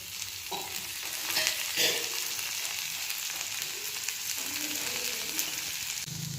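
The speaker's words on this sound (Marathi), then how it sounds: "हा असा कांदा संपूर्ण भाजून घ्यायचा" Onion roasts in oil in a pan with a steady close sizzle, occasionally stirred with faint scrapes and clinks, the frying hiss continuing evenly throughout.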